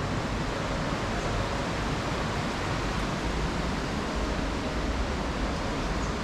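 A river rushes through the Orrido gorge on the Val Sanagra trekking path near Como, a steady, dense broadband roar with no break and no voices.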